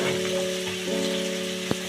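Young jackfruit frying in a pan gives a steady close sizzle with a low hum underneath and one sharp clink near the end, with no talking.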